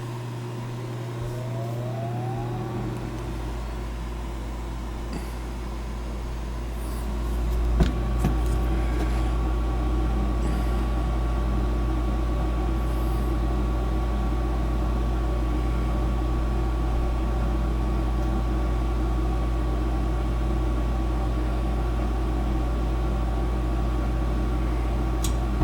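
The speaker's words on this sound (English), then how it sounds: "Houston, we have ignition." A gas furnace during an annual service, starting up with a rising hum, a soft thump at ignition, then running with a steady loud low rumble and whirring blower, close by and continuous.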